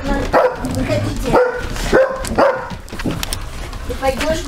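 Several dogs bark repeatedly in the rooms of an animal shelter, loud and close, in rhythmic bursts about every half second, with someone talking among them.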